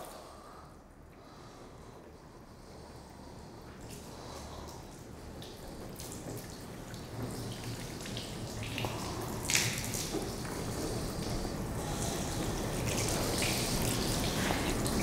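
A gentle, low-pressure stream of water from a hose without a pressure washer runs over a car freshly coated with AutoGlanz PRIZM hybrid ceramic wax, a steady soft splashing and trickling that builds slightly louder toward the end.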